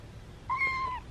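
A single kitten, one of a litter found on a mountain and brought home, gives one clear drawn-out meow, close and alone against quiet room noise.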